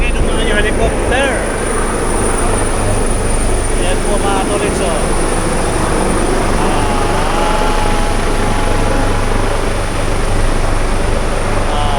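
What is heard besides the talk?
helicopters flying overhead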